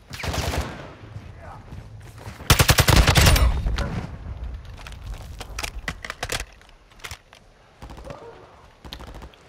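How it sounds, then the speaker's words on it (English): Bursts of rapid automatic gunfire from Call of Duty: Modern Warfare II, loud volleys and scattered shots with brief pauses, a voice speaking now and then. "There's gunfire over there, aren't there?"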